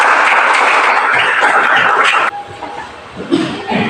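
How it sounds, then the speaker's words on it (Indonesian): A burst of clapping from a classroom of students fills the first couple of seconds, then stops abruptly, leaving quieter room noise with faint scattered sounds. "Tepuk tangan dulu."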